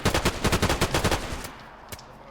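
A rapid burst of automatic gunfire rattles loudly in the survival video game DayZ, with about a dozen quick shots, then a pause and one isolated crack.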